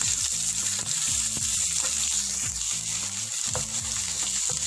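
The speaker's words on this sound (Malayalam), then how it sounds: "അതിലേക്ക് തന്നെ സവാളയും കൂടെ ആഡ് ചെയ്യാം. നന്നായിട്ടൊന്ന് വഴറ്റിയെടുക്കാം." Onions sautéing in a pan for Chicken Kashmiri, a constant close sizzle broken by regular scraping stirs of a utensil against the pan, with no speech.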